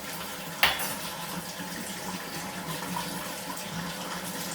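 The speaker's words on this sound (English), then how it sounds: "the hot water's running." Hot water runs steadily from a tap into a sink, with a sharp clink of a dish or utensil near the start.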